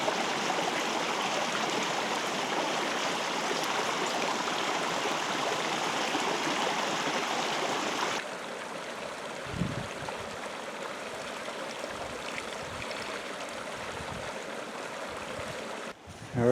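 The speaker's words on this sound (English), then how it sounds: "then we can rinse them out in this cold stream" Cold mountain stream flowing in elk hunting country, a steady broad rush of water close by, loud at first, then quieter and more distant with light handling bumps and no voices.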